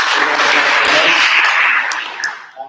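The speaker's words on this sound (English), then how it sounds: "We'll give her a round of applause." A sales seminar audience applauds, a dense, loud wash of many hands clapping together that holds steady, then thins out and fades near the end.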